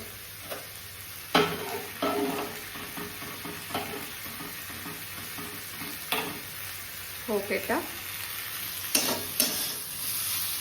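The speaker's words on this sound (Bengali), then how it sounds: "মাছটা ভাজা হয়ে যাওয়ার পর সবজিটাকে দিয়ে দিয়েছে প্রায় ভাজাও হয়েছে" Vegetables frying in a home kitchen pan after fish was fried, with a continuous soft sizzle broken by sharp clicks and scrapes of a spatula stirring at irregular intervals.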